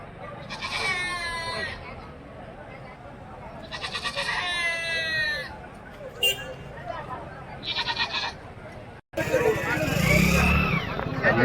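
Young goats bleat repeatedly at a busy village livestock market beside a temple, with people talking and a motorbike nearby in the background.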